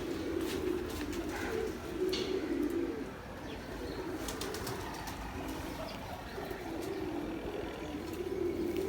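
Blue Firozpuri breeding male pigeons coo softly and repeatedly at close range, with occasional wing flaps and faint chirps over a steady background hum.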